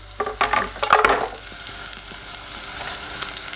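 Chopped onion stewing softly in a pan, a steady close sizzle with a few stirring scrapes near the start, then an even low crackle continuing alone.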